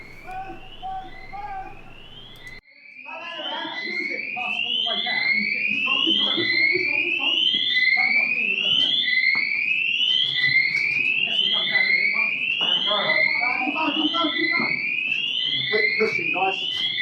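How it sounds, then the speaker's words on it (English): Fire alarms blare in a repeating rising whoop, loud and continuous, during an airsoft game in a prison-themed site, while players shout and talk underneath. "the fire alarms go off, and we have to fight on through the noise of the sirens"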